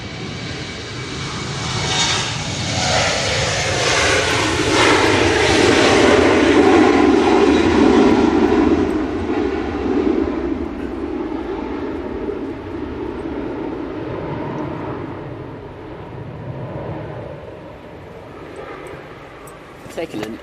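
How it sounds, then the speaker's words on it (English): A Finnair airliner on its takeoff run at windy Manchester Airport, a rising jet engine roar building to a loud peak, then a long slowly fading rumble as it climbs away, with a voice talking over it. "Taking an age to rotate there."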